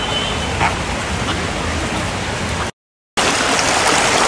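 A hill stream and waterfall on a forest trek rush in a constant broadband wash of flowing water, steady and fairly loud, briefly cut to silence partway through, with no talk.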